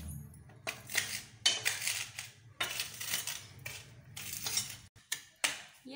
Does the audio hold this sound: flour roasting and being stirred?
yes